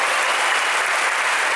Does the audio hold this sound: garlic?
no